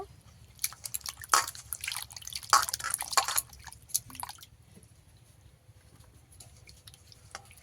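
Potatoes being rinsed and rubbed by hand in a bowl of water: splashing, dripping bursts in the first half, then a quieter tail of faint drips.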